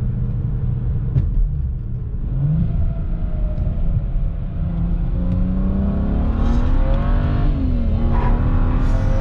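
BMW 335i with an MHD Stage 2+ tune pulling hard, a loud in-car engine drone climbing steadily in pitch through the revs with a brief dip at a gear change, deep rumble throughout and no talking.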